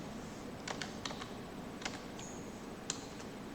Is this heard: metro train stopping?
no